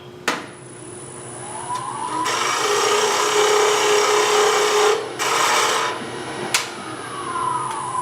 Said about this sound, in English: I've got to keep turning the lathe off